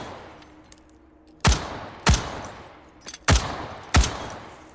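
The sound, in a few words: gunfire in the video game H3VR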